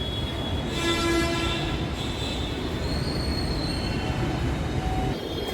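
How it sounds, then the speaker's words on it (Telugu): A metro train at a Hyderabad station, with loud steady rolling and rail rumble throughout, high wheel squeal and tonal whines rising over the noise, and a brief horn-like tone early on. "సో ఇదిగోండి హైదరాబాద్ మెట్రో స్టేషన్ ఇది."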